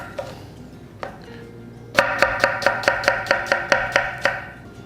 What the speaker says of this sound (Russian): Лук нарезали